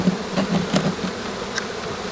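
Honey bees buzz steadily at an open hive, a close, continuous drone with small swells in intensity and no voices.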